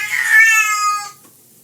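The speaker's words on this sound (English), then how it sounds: "I'm sorry, that's my old kitty." An old house cat named Frank gives a single loud, close, drawn-out meow lasting about a second, then goes quiet, with no talk.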